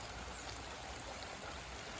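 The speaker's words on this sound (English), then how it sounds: "when the water's flowing pretty good" Creek water flows steadily through the woods, a continuous soft rushing wash that stays even and unbroken from start to finish, with no voices.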